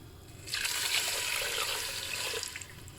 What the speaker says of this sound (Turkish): Bir miktar da normal su ekleyeceğim.